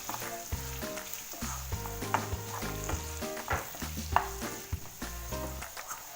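Potatoes and peas stirred in a pan over a medium flame, with a steady sizzle of frying under repeated scraping strokes of the spoon, close and fairly loud, and with background music playing throughout.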